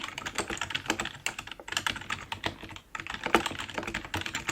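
Rapid typing on a computer keyboard in a quiet room during a soft-spoken mock interview for a personal assistant, close and continuous with brief pauses between bursts of keystrokes.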